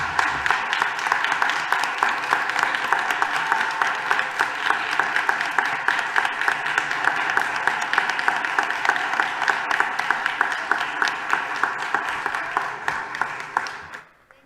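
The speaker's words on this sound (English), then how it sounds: "I just really want to give you all a round of applause." Sustained applause from a crowd at a school board meeting, dense and steady for about fourteen seconds before stopping abruptly, with no talk over it.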